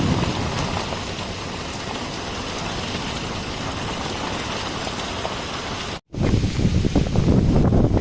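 Steady, dense rain pours down continuously with wind rumble in Palitana, briefly cut off for an instant before resuming just as heavy.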